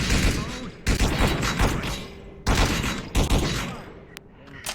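Video game gunfire in rapid, sustained volleys that stop and restart, loud and dense, with short gaps between bursts.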